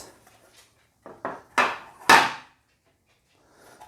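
A Commodore 1581 floppy disk drive's plastic case is opened up close, giving a short run of hard knocks and clunks in the middle, with quiet stretches before and after and no talk.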